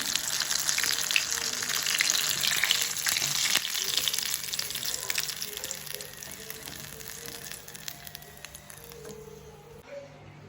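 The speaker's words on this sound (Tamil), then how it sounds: "இப்போ நாங்கள் ரோல் எல்லாம் பொரிச்சு எடுத்துட்டோம்." Vegetable rolls deep frying in hot oil, a steady, dense sizzle and bubbling that runs close and loud throughout, easing slightly toward the end with no talk over it.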